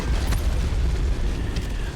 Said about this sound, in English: I've got an ammo explosion.